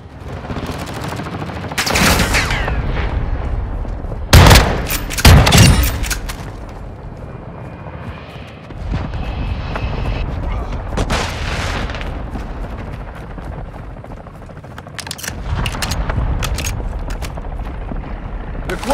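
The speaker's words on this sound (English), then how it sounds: "Friendly mortar strike on the way." Call of Duty: Modern Warfare 2 battle audio with a friendly mortar strike: sharp bursts of gunfire and booming impacts arrive in clusters, some heavy blasts standing out loud between stretches of rumbling combat noise.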